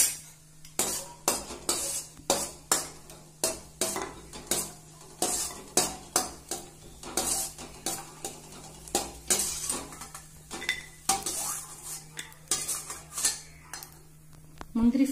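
Cashews being fried in a pan for homemade carrot halwa, a spoon clinking and scraping against the pan in a steady rhythm of sharp taps over a low sizzle, close and clear, with no talking.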